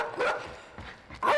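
A dog in a horror video game gives a few short, close barks, spaced out over a brief moment.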